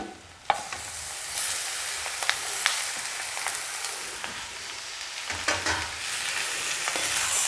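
Onions and three fairly large tomatoes sauté in a pan for illam dosai chutney, giving a soft continuous sizzle broken by occasional spatula scrapes and stirring clacks.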